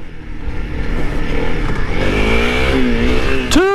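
A Honda CRF300L dual sport motorcycle engine revs up hard through rising gear-like pitch sweeps, loud and close, ending in a sharp high rev burst, with no talking.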